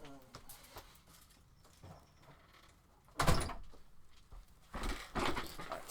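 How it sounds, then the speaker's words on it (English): An indoor door bangs shut with a loud thump, then gives a second burst of heavier knocking and rattling. Quieter shuffling and faint voices come before the bangs. "Stupid door."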